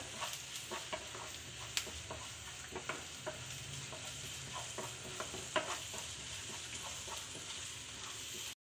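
Crushed ginger and garlic are stirred in a pan, a faint, continuous sizzle with soft, irregular scraping and light taps from the stirring spoon.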